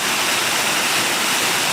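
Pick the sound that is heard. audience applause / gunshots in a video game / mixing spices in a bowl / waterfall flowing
waterfall flowing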